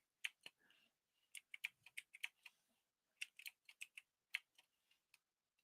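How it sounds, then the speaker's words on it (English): Letters typed on a computer keyboard during a word game, heard as crisp, close clicks in irregular bursts of several keystrokes with short pauses between, quiet and alone with no talking. "I'm going to start typing letters in."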